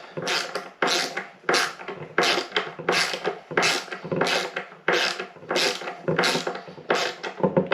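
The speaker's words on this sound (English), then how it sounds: "We just want to hold the feet flat while we screw it in." Screws being driven to fix the feet onto an F-Press, heard as a series of about a dozen short, evenly spaced ratcheting, grinding bursts, close and fairly quiet, with no talk.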